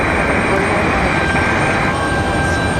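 A Boeing 717 departs with a steady, loud broadband jet roar rising to a high whine, sustained throughout without any clear talk on top.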